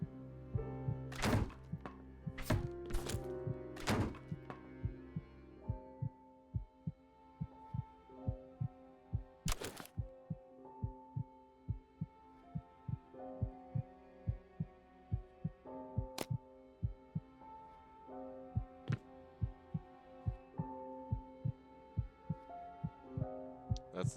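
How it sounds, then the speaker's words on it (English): A panicking detective's heartbeat in the Lovecraftian roguelite Lovecraft's Untold Stories thumps in a steady, muffled double-beat rhythm over a low droning hum, with a few loud knocks early on. "you can audibly hear his heartbeat"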